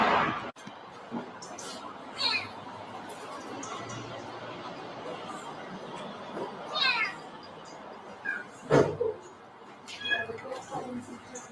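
Cats and kittens meow at a cat sanctuary, with several distinct meows spread through the scene, some near and some farther away, alongside faint background chatter.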